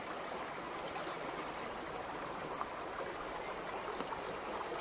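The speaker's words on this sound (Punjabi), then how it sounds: "ਪਾਣੀ ਦਾ ਸਾਊਂਡ ਚੈੱਕ ਕਰੋ ਸਪੀਡ ਚੈੱਕ ਕਰੋ ਕਿੰਨੀ ਤੇਜ਼ ਆ" Fast-flowing floodwater of the Sutlej river rushes past near a village, a steady roaring gush that stays loud and unbroken throughout with no voices.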